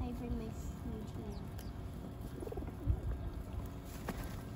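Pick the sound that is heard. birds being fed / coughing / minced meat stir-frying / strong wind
birds being fed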